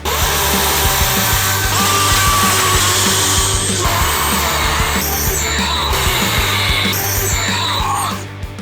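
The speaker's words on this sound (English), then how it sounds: "I think the chainsaw is gonna be most efficient at cutting through this trunk here" A DeWalt 60V electric chainsaw whines loudly and steadily up close as it cuts through a tree trunk, its pitch shifting under load, then cutting off at the end.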